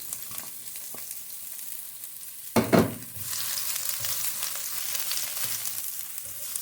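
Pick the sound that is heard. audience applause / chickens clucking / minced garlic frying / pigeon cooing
minced garlic frying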